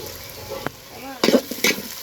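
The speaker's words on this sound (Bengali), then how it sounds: "আমি পেঁয়াজটা একটু লাল লাল করে ভেজে নেব" Onions fry with dried chillies and bay leaves over a clay stove, a steady sizzle broken by several sharp scraping stirs and knocks of a spoon in the pan, with a brief voice-like sound in the middle.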